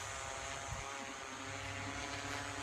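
A camera drone hovers over a house with its throttle raised, giving a steady, continuous motor-and-propeller drone that stays level and fairly close throughout, with no talking.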